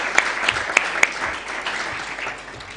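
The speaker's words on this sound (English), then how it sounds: "So let's clap for them." An audience applauds moot court competition participants, a dense patter of clapping with a few sharp, prominent claps early on that gradually thins and fades.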